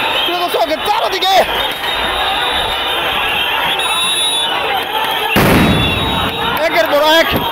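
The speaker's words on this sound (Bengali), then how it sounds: "একের পর এক সাউন্ড গ্রেনেড ছোড়া হচ্ছে" Sound grenades go off one after another amid a tense street scene with police, heavy booming bursts cutting through crowd noise while a voice talks continuously over the blasts.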